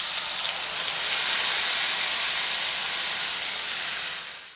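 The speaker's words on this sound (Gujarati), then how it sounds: "હવે તેમાં તૈયાર કરેલું ટમેટાનું મિશ્રણ ઉમેરી દઈએ" Tomato mixture hits a hot pan with a loud, steady steam hiss that holds evenly for a few seconds before tapering off at the end, with no voices over it.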